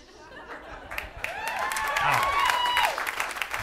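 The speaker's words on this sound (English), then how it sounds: "Don't applaud that." Audience at a Hollywood stand-up comedy show applauding and laughing, clapping building and swelling over a few seconds with chuckles and chatter mixed in.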